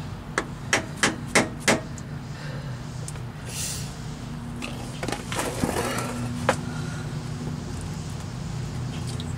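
Sharp metallic hammer strikes ring out against a Dana 44 rear differential cover on a Jeep Wrangler JK, five quick hits in a row, then a few scattered blows against a steady low hum of background noise.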